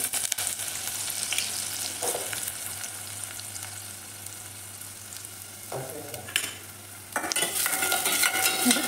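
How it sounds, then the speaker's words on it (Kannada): Onions fry in about two tablespoons of hot oil for ridge gourd chutney, with a continuous close sizzle, occasional spoon scrapes and stirs in the pan, and the frying turning louder near the end. "ಈರುಳ್ಳಿ ಸ್ವಲ್ಪ ಫ್ರೈ ಆಗಲಿ."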